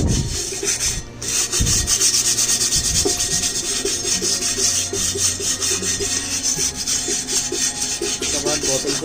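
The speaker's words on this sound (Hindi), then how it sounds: "वो सरफेस थोड़ा स्मूथ करने के लिए आप कोई भी पॉलिश पेपर यूज करना, थोड़ा अच्छे से पॉलिश करके रहना उसमें" Polish paper rubs and sands the cut edge of a large glass bottle in steady back-and-forth strokes, close and continuous throughout.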